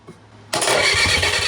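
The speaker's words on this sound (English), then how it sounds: "Let's bleed these lines and see if it fires." A rebuilt, previously seized Kubota diesel engine in a Bobcat 7753 skid steer cranks and catches after a quiet moment, then runs loudly and steadily with a rough, rattling clatter.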